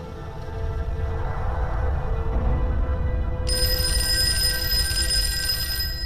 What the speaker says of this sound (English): Phone rings again.